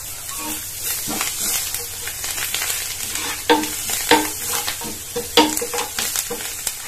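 Butter and half a spoon of pav bhaji masala sizzle loudly in a pan, with crackling bursts and scraping stirs over a steady hiss; no speech.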